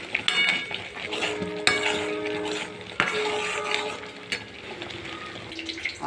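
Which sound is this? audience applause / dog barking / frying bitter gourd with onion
frying bitter gourd with onion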